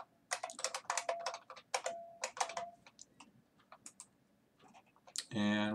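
A password is typed on a computer keyboard, quiet and close, with rapid bursts of key clicks separated by short pauses, ending in one harder keystroke.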